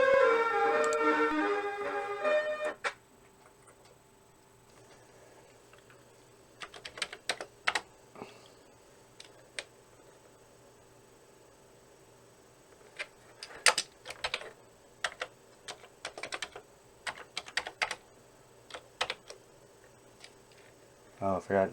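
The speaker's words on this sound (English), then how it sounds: "Try typing the following exactly as shown." Someone types on a Commodore 64 computer keyboard in short clustered bursts of sharp clicky keystrokes with pauses between them. A person talks briefly at the start.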